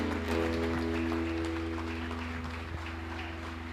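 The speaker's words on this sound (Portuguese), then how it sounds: "as palmas glorificam ao Senhor" A church congregation at an Assembly of God prayer circle anniversary service applauds in a steady, dense wash of clapping, with a sustained organ or keyboard tone held underneath.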